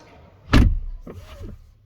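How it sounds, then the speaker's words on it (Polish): A single solid thud of a 2022 BMW iX car door shutting, followed by a short whirring motor sound like a power window moving, close by. "Bardzo tandetny ten odgłos zamykanych drzwi"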